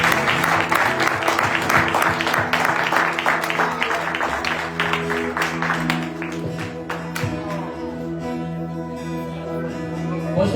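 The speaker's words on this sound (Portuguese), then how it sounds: "dar uma melhor salva de palmas nessa noite." A church congregation gives a sustained round of applause, dense clapping that gradually thins out while a voice and organ-like tones continue underneath.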